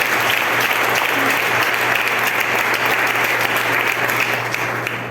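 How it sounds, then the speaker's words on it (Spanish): Steady, continuous applause from a church congregation during a sermon fills the room evenly for about five seconds, over a faint low hum. "Dame un aplauso al Señor."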